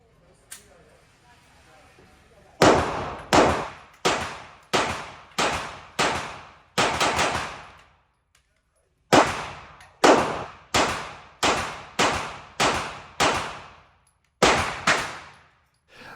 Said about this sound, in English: let's get out to the range and let's get some rounds down range and see how well these things shoot